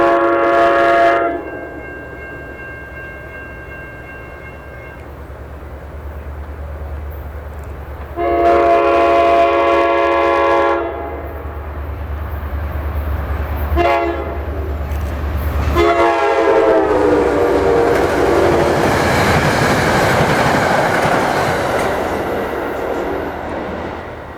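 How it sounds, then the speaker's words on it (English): New Jersey Transit Express Train 65, led by Metro North locomotive 4905 and running westbound toward Port Jervis, sounds several loud horn blasts with a deep engine rumble, then roars past with mounting wheel and rail noise. "Our final train of the night would be New Jersey Transit Express Train 65 with Metro North 4905 leading the train westbound to Port Jervis"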